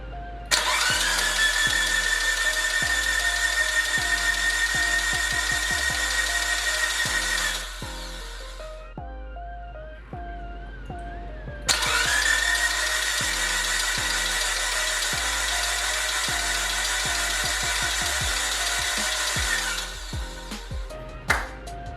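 Evo 9 engine cranking over with no spark plugs fitted, a steady whirring starter drone that runs for several seconds, stops briefly, then resumes for a second long stretch, close and loud with no talk.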